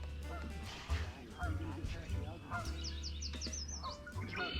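Canada geese honk repeatedly in a marsh at Rocky Mountain Arsenal National Wildlife Refuge, over a steady low rumble with faint background voices.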